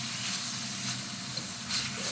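Beef strips searing in a wok with plenty of hot oil for a beef and broccoli stir-fry, giving a steady close hiss and sizzle throughout with faint stirring scrapes.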